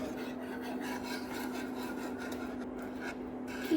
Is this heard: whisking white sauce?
yes